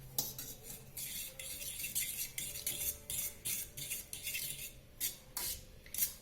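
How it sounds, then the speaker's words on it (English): Spoon stirring brown sugar and coffee into a coffee and kuppamane herb soap mixture, a steady run of scraping, clinking strokes against the container, close and moderately loud, with no voices. "I'm going to stir."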